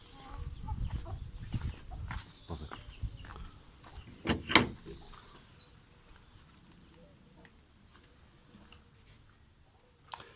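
Three-day-old chicks in a coop, scattered high peeps and chirps over some shuffling and knocking, with a louder cluster midway, fairly close.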